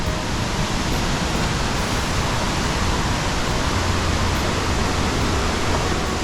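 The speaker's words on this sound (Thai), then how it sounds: "นี่คือข้างบนของน้ำตก" Tad Yuang waterfall in southern Laos, heard as a dense, constant roar of rushing water, loud and unbroken throughout.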